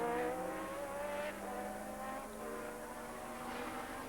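An early-1980s Formula 1 car at the British Grand Prix runs with a rough-sounding engine, a sustained droning whine with shifting tones that fades slightly as it goes on, heard alone without commentary.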